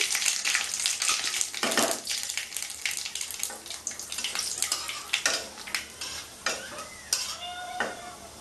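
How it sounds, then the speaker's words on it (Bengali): Mustard seeds spluttering and crackling in hot oil for a Bengali raw mango chutney, a dense, steady sizzle broken by sharp pops and bursts of crackle, loud and close, with no voices. "সর্ষে ফুটে যাবে"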